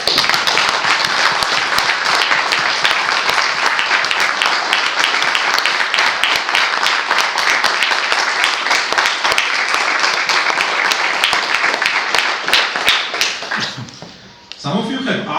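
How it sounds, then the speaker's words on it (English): A conference audience gives a long, warm round of applause mixed with foot stomping, dense and steady throughout, then thinning out near the end as a few voices start to speak. "please join me in a particularly warm round of applause and perhaps stomping of feet"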